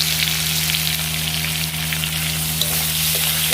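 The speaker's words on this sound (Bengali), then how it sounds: "নুনটা দিয়ে দিলে তাড়াতাড়ি সুন্দর করে নরম হয়ে যাবে আর ভাজা হয়ে যাবে।" Vegetables frying with salt in a slightly cracked kadai, producing a loud, steady, close sizzle with faint stirring scrapes and a low constant hum beneath it.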